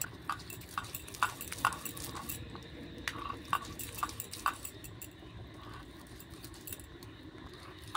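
Nuts are ground by hand on a traditional shil-nora grinding stone, making quiet repeated clacks and gritty scraping strokes in an uneven rhythm, close but faint.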